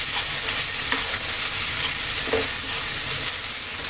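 Onions frying and being stirred in a pan over fairly lively heat, a loud, continuous close sizzle with occasional scraping stirs, no voices.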